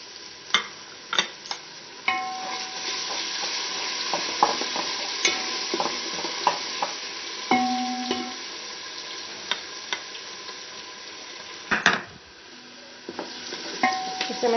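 Ginger-garlic paste sizzles and fries in a pan with browned onions, with repeated stirring clicks and scrapes over a steady close frying hiss.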